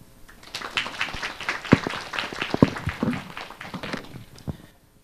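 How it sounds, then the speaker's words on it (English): Audience applause welcoming a speaker at an international organisations career information session, a dense burst of hand clapping that rises, peaks in the middle and tapers off toward the end. "Please welcome him with a round of applause."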